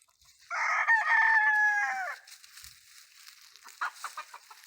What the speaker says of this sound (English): Those are some crazy birds, ain't they?